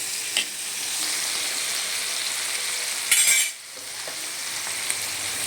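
Shrimp paste with onion and pork frying in a pan, a steady broadband sizzle throughout with a brief louder crackle burst near the middle, close and continuous, no voices.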